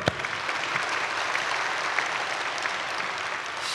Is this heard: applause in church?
yes